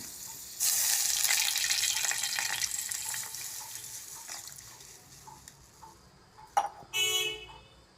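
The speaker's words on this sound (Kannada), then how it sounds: "ಇವಾಗ ಕೆಂಪಾಗಿದೆ, ಹಾಲು ಹಾಕೋತಾ ಇದ್ದೀನಿ" Milk is poured into a pan of browned ingredients for ghee poppy-seed payasam: a steady liquid pour that starts abruptly, runs for a few seconds, then tapers off, followed by a couple of short splashes and clinks.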